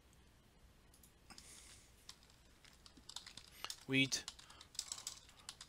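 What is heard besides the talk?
typing on a computer keyboard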